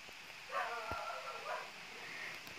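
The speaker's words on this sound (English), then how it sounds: "That's just my dog barking" A few faint dog barks and yips sound from a distance against quiet background noise.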